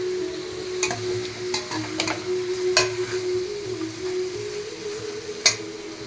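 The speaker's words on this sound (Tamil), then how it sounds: "இந்த விழுதோட சேர்த்து எண்ணெய் எல்லாம் போட்டு கறியும் போட்டு தாளிச்சு போடணும். வதக்கிடணும் எண்ணெயில் நல்லா." Country chicken pieces with small onions and home-ground masala paste are sautéed in oil for a village-style curry, giving a continuous close sizzle broken by a few sharp scrapes and clinks of stirring. No one speaks.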